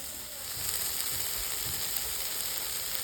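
Chili powder, salt, turmeric and spices sautéing in a pan, a steady soft sizzle and fry hiss running continuously, with faint low scraping of stirring underneath.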